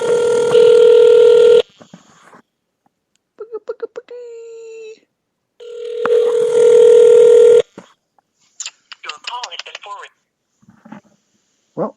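An iPhone call going unanswered, with long loud ringback tones alternating with short electronic beeps and gaps, heard close and clear.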